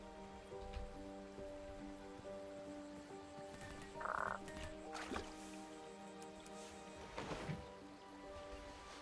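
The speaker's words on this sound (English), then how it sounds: "Hello, frogs." Frogs croak in a damp setting in the 2015 King's Quest game, a steady chorus of low croaks under a dripping, rain-like patter, with a few louder squishy bursts standing out.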